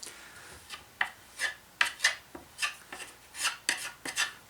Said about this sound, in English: Just a quick sanding on this and then you're in good shape.